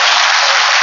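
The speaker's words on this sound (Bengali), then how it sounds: "এবার আমি আমার জন্য একটা হাততালি চেয়ে বুঝব" An audience at a mind-power workshop gives the speaker a short, loud burst of applause, a steady wash of clapping that lasts under a second.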